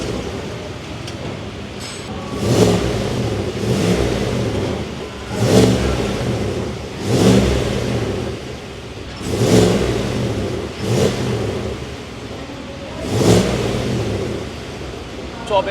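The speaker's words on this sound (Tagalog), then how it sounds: "Parinig ko na talaga sa inyo kung ano yung tunog ng exhaust natin." Exhaust of a 2026 GMC Yukon XL Denali Ultimate SUV revving in short bursts, with about eight rises and falls of engine roar spaced a second or two apart over a steady idle, fairly close and loud.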